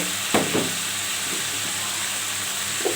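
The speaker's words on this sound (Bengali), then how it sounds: "তার সাথে দিয়ে দিব ডাটা এগুলোকে ভালোভাবে কষিয়ে নেব" Spices, jackfruit seeds and potatoes sauté in a hot pan with a steady soft sizzle and hiss, and a few faint scraping stirs come through near the start.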